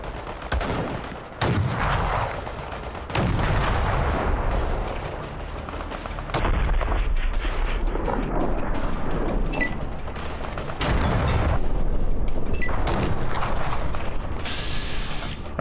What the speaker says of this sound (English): That's the flak gun, right?